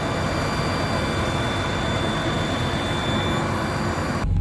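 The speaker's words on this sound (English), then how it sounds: "And a shot of the exhaust with the motor running." A car's 3.5 engine runs steadily near the exhaust, a loud, unbroken droning rumble with no talk that cuts off abruptly just before the end.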